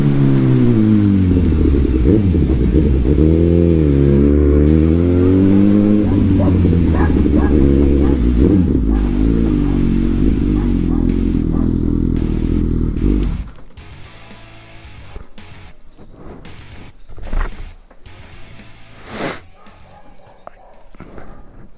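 A Suzuki GSX-S1000 motorcycle with a Yoshimura exhaust revs close by, its engine note rising and falling through repeated throttle blips for about thirteen seconds before cutting off, followed by quieter scattered clicks and handling noises.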